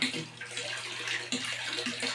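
Water runs steadily into a basin at home, a close continuous splashing and gurgling with a low mechanical hum beneath, and no voices.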